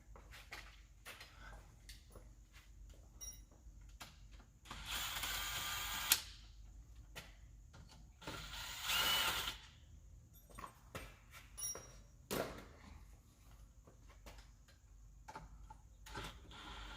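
A ratchet on an extension loosens bolts on a twin-turbo GMC build, giving quiet, scattered mechanical ticks and clicks with louder broadband bursts between them.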